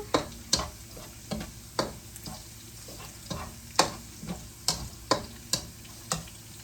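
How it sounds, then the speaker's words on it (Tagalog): Garlic sautéing in a pan for pork binagoongan, a faint steady sizzle broken by a dozen or so light regular ticks and scrapes of a utensil stirring against the pan. "Ngayon naman ay magigisa po tayo ng bawang."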